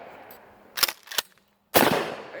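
Ithaca 37 riot shotgun firing outdoors: sharp, loud blasts at close range, with a quieter gap before a final heavy report that trails off into echo.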